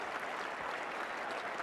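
A cricket crowd at an Ashes Test in 1985 applauds a cover drive from Gower, a sustained patter of distant clapping that stays even and moderately faint throughout.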